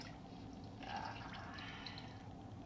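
Glaze is gently poured out of a ceramic bowl in a pottery studio, a soft, faint trickle with light drips, quiet and close.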